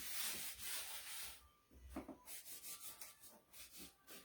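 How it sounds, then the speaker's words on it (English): Baby wipe rubbed over freshly sanded wood on a Christmas ornaments sign, soft close scrubbing strokes in short repeated passes, quiet with no talking. "we'll take a baby wipe and wipe all that sanding stuff off"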